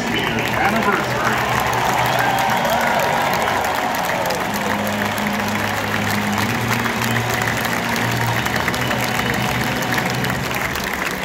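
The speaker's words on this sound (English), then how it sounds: "please give all of our past champions a big round of applause" A stadium crowd at a Michigan college football pregame gives sustained applause for past champions, a dense wash of clapping and cheering that holds steady throughout while an announcer speaks over it.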